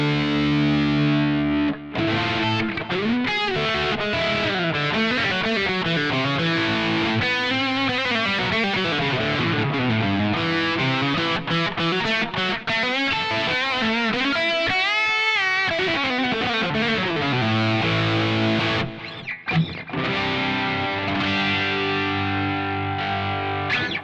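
An EVH electric guitar played through heavy distortion, ringing chords and rapid sustained notes with bends, loud and continuous with a brief pause near the end.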